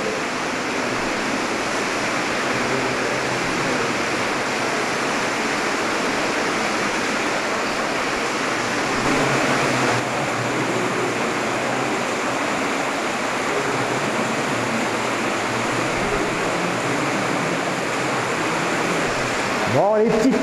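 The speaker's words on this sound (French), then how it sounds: "Ça c'est la rivière en fait." The underground river in the Choranche cave rushes steadily, a dense, loud, unbroken roar of flowing water echoing through the limestone cavern for the whole stretch.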